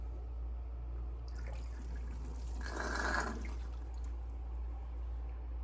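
Pepper plants in a tray watered by hand indoors: a soft, steady trickle of water swells briefly in the middle, with faint drips around it and a low hum underneath, no talking.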